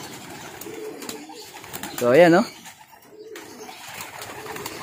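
A single soft pigeon coo rises briefly amid quiet background sounds, with people talking before and after it.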